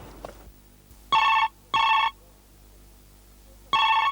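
A telephone rings in an office: three loud, even electronic bursts, each about half a second, separated by short pauses, with no voices over them.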